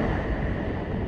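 A steady, low wind rush buffets the microphone throughout, moderately loud and continuous, with no talking.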